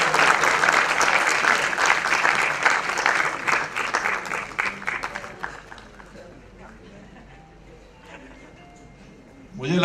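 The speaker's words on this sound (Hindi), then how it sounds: "मुझे लगता है कि आपकी तालियों में वो बात नहीं है।" Loud applause from a large audience at an award ceremony, fading after several seconds into a quieter room with scattered claps and a renewed burst at the end.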